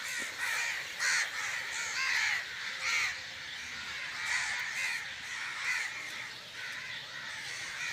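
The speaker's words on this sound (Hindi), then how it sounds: "ये देखें इतने ज़्यादा कौवे यहाँ पे हैं।" A large flock of crows caws from bamboo thickets around a village, dozens of harsh overlapping calls rising and falling in a dense, continuous chorus at moderate distance, with no talk.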